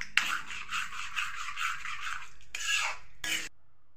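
Mixing a cornmeal batter into simmering mustard greens saag, a steady wet scraping stir in a pot that pauses, then two brief louder scraping bursts near the end.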